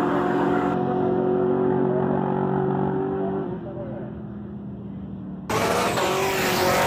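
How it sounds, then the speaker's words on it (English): A black Camaro and a white Firebird run a drag race, engines roaring loud and steady, with the sound dipping and thinning midway before the full roar returns. "Got Mankia in the black Camaro going against Robertson in the white Firebird."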